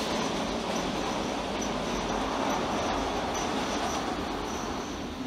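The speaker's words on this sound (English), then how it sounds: "There's the train" A passing train rumbles by steadily and loudly for several seconds, with dense rolling wheel noise and faint high squeals on the rails, heard from nearby outdoors without any talking.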